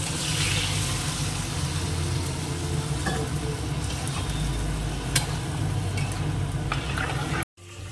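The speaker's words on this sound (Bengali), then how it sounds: "এবার লাউটা ঢেলে দেবো।" Chopped bottle gourd tipped into a hot pan of oil with a little shrimp, frying with a steady loud sizzle and occasional stirring scrapes throughout, cut off abruptly near the end.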